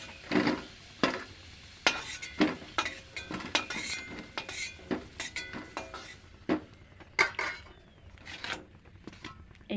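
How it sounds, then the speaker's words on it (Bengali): Prawns being stirred and tossed in a frying pan, with a utensil knocking and scraping against the metal in irregular clinks and scrapes, close and fairly loud, with no voices. "এবার কালকে চিংড়ি মাছ আছে ভাজা, অল্প, এটা একবার নেড়ে নেব।"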